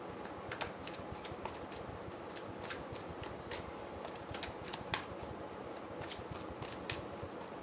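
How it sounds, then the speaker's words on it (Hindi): Tarot cards being shuffled for a reading, a faint, steady riffle of soft repeated card clicks with no talking. "सबसे पहले हम आपके लिए कार्ड्स निकालते हैं।"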